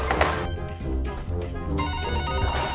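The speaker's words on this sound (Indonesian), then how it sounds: "Bentar, Wei, ada telepon ya, Wei." A telephone rings in an office, a steady, loud electronic ring that continues through the whole moment over a low background hum.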